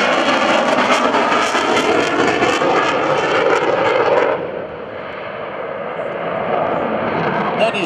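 An F/A-18C Hornet jet at an airshow makes a loud, continuous broadband roar that dips slightly midway and then builds again. No talk is heard.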